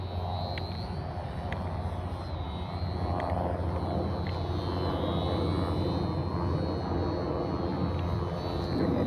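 A model airplane flying over a park near ball fields on a windy day gives a continuous, distant buzzing engine drone with a faint high whine wavering above a constant wind rumble.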